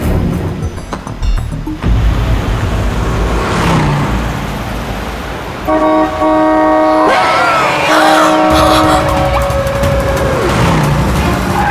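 A car speeds away during a chase in a TV crime drama, steady loud engine and road rush with tonal music swelling midway and dramatic rising sound effects, no talk over it.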